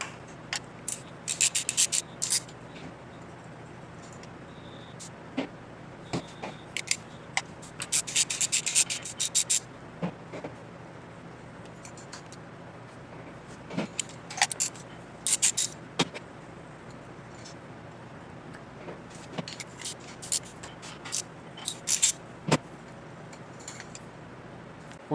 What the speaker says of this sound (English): now we're going to move all 4 spark plugs.